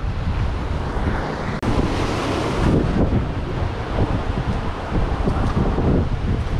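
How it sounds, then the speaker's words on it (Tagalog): Strong wind buffets the microphone nonstop out on the open sea off Jomalig Island, a loud roaring rush mixed with waves and water splashing around a small fishing boat. "Lakas pa naman ang hangin."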